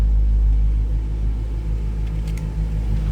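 A 1958 Pontiac Bonneville hardtop with its Tri-Power engine runs with a deep, steady low rumble and a slight swell of throttle, heard close with no talking.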